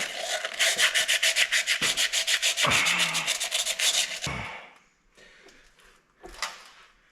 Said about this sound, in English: Keep working the sandpaper, I guess.